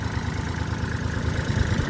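A Kubota L3408 tractor diesel engine idles close by with a steady, low, throbbing rumble that holds an even level from start to finish.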